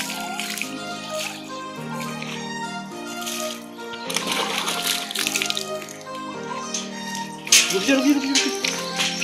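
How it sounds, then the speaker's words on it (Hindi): Warm water splashes and sloshes in uneven bursts while a German Shepherd dog is bathed. Voices can be heard over the water, and the splashing grows louder near the end. "गर्म पानी से ब्रूनो को नहला रहे हैं।"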